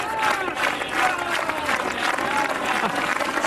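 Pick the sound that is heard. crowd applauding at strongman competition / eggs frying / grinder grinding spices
crowd applauding at strongman competition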